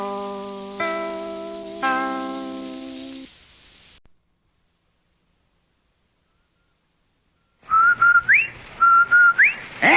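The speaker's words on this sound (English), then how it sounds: "That whistle. That's the Rinso White whistle." The Rinso White whistle from an old-time radio advertisement: sustained organ-like chords fade to silence, then a rising, sliding two-note whistle repeats several times, bright and clear.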